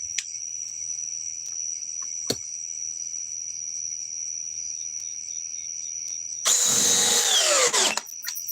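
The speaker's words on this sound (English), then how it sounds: "now let's try the M12. Even though this drill is well broke in" A steady high insect-like whine runs throughout, then a well-worn Milwaukee M12 cordless drill whirs loudly at speed 2 for about a second and a half before winding down.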